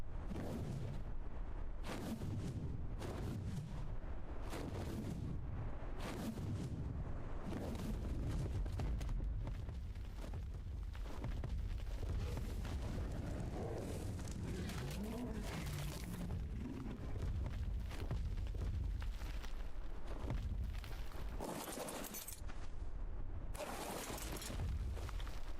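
Gunfire aimed at an alpha wyvern in ARK: Survival Evolved, with repeated sharp shots and booming impacts over a dense, continuous game soundscape of roars and rumble, fairly faint overall.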